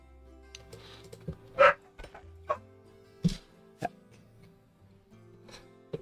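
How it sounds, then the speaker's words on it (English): A Schnauzer gives a few scattered, sharp barks indoors, spaced irregularly with quiet gaps between them. No one speaks. "Dog's losing his mind"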